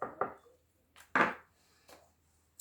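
Sultanas and pecans tipped into melted vegan flapjack mixture in a pan, heard as a few short, close, dull thuds and rattles with quiet gaps between them.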